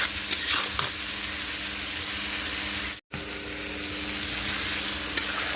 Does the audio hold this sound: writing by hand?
no